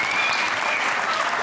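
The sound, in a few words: audience applause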